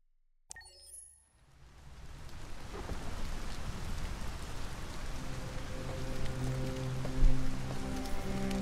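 Rain in the video game Detroit: Become Human, a steady downpour rising after a brief start and holding loud and close, with a soft low rumble and faint tonal game music underneath.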